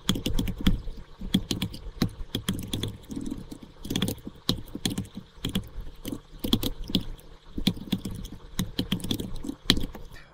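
Someone types code on a computer keyboard in irregular bursts of close, crisp key clicks with short pauses between runs and no talking.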